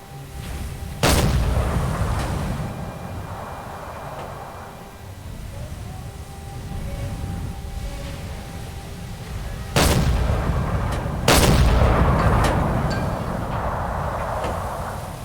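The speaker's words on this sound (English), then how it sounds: "He's got to traverse that gun every single time I fire, or every time I surface." A submarine's deck gun firing in Silent Hunter 4 as the USS Nautilus fights, three loud sharp booms spread over about fifteen seconds, each followed by a rumbling tail over steady background engine noise.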